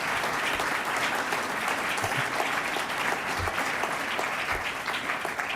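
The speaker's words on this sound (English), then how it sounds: "You can applaud to that if you like." An audience at a university State of the University address applauds. Dense, steady clapping from a large crowd fills the whole stretch at moderate loudness, with no speech over it.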